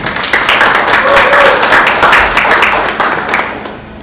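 A room of people at a Kentucky city council gathering applauds to welcome a new city council member, dense steady clapping up close that fades toward the end.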